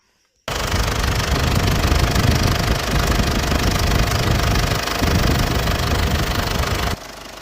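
A 2009 Mazda BT50 diesel engine with an EGR cooler fault fires up abruptly after a moment of silence and runs with a loud, rough, knocking clatter before cutting back at the end.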